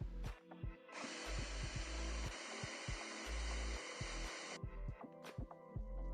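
A blender grinds peanuts in short bursts, the motor surging up and cutting off repeatedly with brief pauses between pulses, loud and close.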